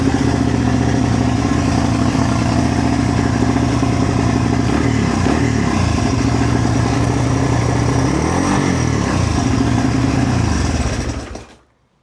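A Honda XR200R dirt bike engine runs loud and close with a steady, rattling idle, cold and without choke. It holds for about eleven seconds, then is cut off abruptly and falls silent.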